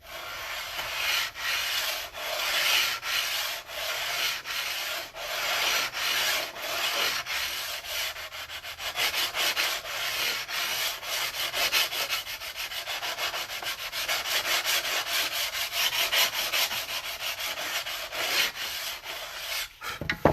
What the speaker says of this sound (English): I'm smoothing this side corner surface